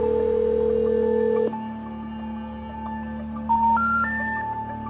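Cell phone call tones ring out alone: a sustained steady tone, then a rising sequence of three beeps like a disconnected-number signal, clear and close.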